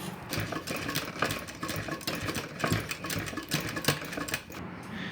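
A sewing machine runs in a steady, fairly loud whir with short pauses and restarts while stitching a rounded seat seam on small baby shorts, with no voices over it.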